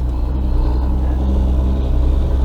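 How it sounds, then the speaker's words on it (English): Truck traffic on the outskirts of a coastal highway hums as a steady, low rumbling drone with a throbbing undertone, continuous and moderately loud. "You can hear a little bit of the truck noise that is on the outskirts"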